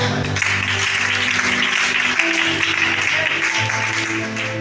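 A church congregation at a Sunday service in Libreville, Gabon, applauds steadily and fairly loudly throughout, a dense wash of clapping with faint sustained tones underneath.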